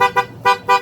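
A loud motorcycle horn on a Rusi Delta 125 honks three times in quick succession, short sharp blasts close by with brief gaps between them.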